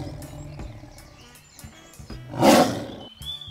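A lion's roar used as a cartoon sound effect, a loud swelling burst set against background music and birdlike chirps.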